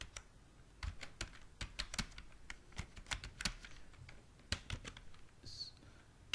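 A computer keyboard typed on while entering text into Excel, giving a quick irregular run of light clicks and key taps at close range, faint overall with brief gaps between bursts.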